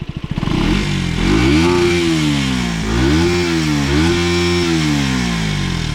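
A 2025 KTM Duke 125 motorcycle on its stock exhaust, engine warm, revs up and down through several rising and falling sweeps, loud and close, holding a steady high idle between blips.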